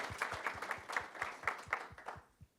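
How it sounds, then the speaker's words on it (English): An audience claps for a speaker at a CES 2026 tech talk, steady rhythmic applause that thins out and fades toward the end. "Round of applause for Mandeep,"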